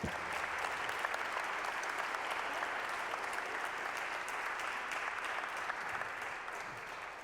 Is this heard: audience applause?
yes